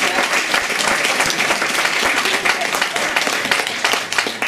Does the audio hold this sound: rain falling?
no